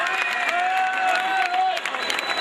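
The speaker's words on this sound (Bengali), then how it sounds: "আমরা আপনাদের কাছ থেকে ওদের জন্য জোরে করতালি আশা করতেই পারি" An audience applauds at a school's 50-year celebration, a steady wash of clapping with cheering and crowd voices mixed in and a sustained tonal whistle or hum running through.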